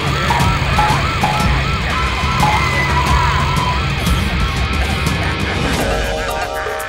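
A cartoon police car siren wails, rising and falling continuously over loud, busy background noise, steady throughout with no pause.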